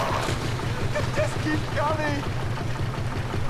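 A motorboat crosses water in the video game Dead Island: Riptide, giving a steady, pulsing engine drone with splashy water noise. Voices talk and shout over it.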